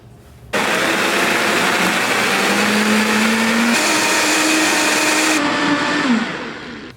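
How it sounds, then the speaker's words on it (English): A Vitamix blender blends fermented peppers into hot sauce, a loud steady motor whir that starts abruptly, holds with a shifting pitch as the mix turns over, and tapers off near the end. "Turning these fermented peppers into a sauce."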